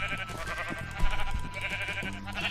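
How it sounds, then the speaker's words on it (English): Sheep in the Minecraft video game bleat in short, wavering calls, several overlapping across a couple of seconds, close and moderately loud against faint game background. "we're gonna kill all these sheep"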